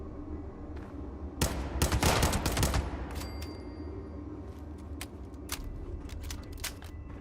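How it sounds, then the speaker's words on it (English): Enemy gunfire in a video game, a dense loud burst of rapid shots in the middle, followed by sparse sharp single cracks and short bursts over a low steady background. "Wait, where's the other one that's shooting at me?"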